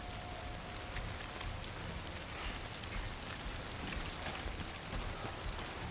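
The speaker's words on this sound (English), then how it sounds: "the rain is not rain. It is timefall." Timefall rain in the Death Stranding video game falls as a dense, steady hiss of drops, even and unbroken throughout, with no voices.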